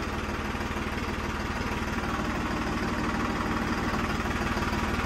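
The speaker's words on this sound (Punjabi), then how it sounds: "ਹੁਣ ਟਰੈਕਟਰ ਬੰਦ ਕਰ ਲੈਣ ਦਿਓ ਇੱਕ ਮਿੰਟ" A tractor at a tractor-pulling contest idles close by, its engine chugging in a steady, fast, even pulse with a rough low rumble that stays constant throughout, with no speech.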